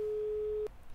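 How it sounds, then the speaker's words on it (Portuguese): A single steady telephone busy-signal tone from a call to an airline, held for most of a second before cutting off, clean and alone. "Ocupado. Esse é o som do desespero."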